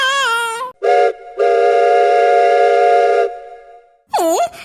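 Loud train whistle blasts in several bursts, one long sustained tone between shorter ones, ending with a bending, wavering whistle.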